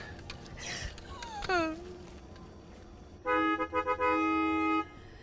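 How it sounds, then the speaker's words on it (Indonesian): A car horn honks in a sustained blast with a few quick stutters, loud and fairly close, after a moment of shouting voices. "Itu suara klakson, berarti mereka udah ada di mobil lagi."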